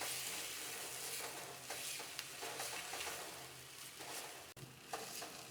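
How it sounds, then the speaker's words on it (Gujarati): Grated ginger sautéing in pizza chutney in a pan over medium heat, giving a steady close sizzle with brief stirring scrapes throughout, no voices. "એકાદ મિનિટ માટે આપણે મીડિયમ ગેસ પર આને સતળાવા દઈશું."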